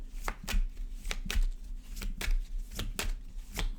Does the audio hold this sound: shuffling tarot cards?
yes